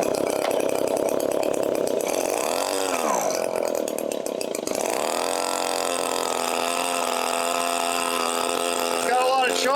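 Echo PB-265L leaf blower two-stroke engine running with heavy choke, a loud close buzzing drone that surges and dips in pitch, stumbling briefly before revving back up.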